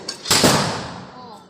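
A Diwali firecracker bursts with a single sharp, loud bang, and its noisy blast rings on and slowly fades over the next second, with a faint tick before it.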